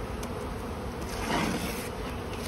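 A dense, steady buzz of honeybees swarming at the front of a hive, filling the whole stretch at an even level with a slight swell in the middle.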